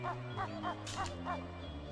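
A dog in the Nintendo 64 game Banjo-Kazooie gives a run of about five evenly spaced, yappy synthesized barks over the game's background music.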